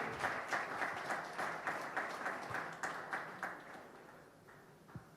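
Congregation at a church wedding blessing clapping together, a faint steady patter of many hands with rhythmic pulses that slowly fades toward the end.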